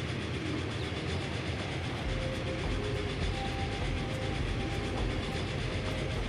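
A train passes in the video game Transport Fever 2 with a loud, continuous rolling rumble and a faint clickety-clack of wheels on rails that holds steady throughout, with no talking.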